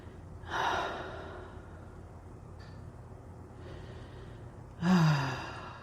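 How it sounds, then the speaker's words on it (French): A deep breath drawn in during a calm guided relaxation, heard as soft, airy inhales and exhales, close and quiet, with a fuller breath near the end. "Prenez une inspiration."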